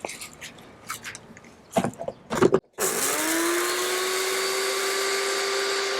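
A blender roars into a steady high whine as it blitzes pink peppercorns for a pavlova, starting abruptly after a few soft clicks and knocks, then running continuously and loud.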